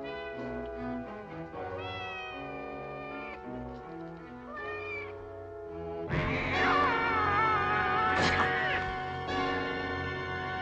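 Two cats meowing in a 1960 science-fiction film about a moon trip, their cries rising loud and wavering over orchestral music, with a voice speaking briefly.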